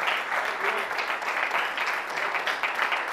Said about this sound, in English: Can you clap your hands, somebody?